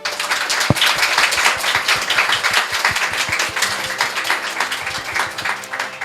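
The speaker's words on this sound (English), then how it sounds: "Please welcome the winner of the previous contest, Ms. Sumika Aoshima, to the stage with a big round of applause." Audience applause fills a speech contest hall as the previous contest winner is welcomed onto the stage. The clapping is dense and steady, with a few sharper claps standing out, and it keeps going without a break.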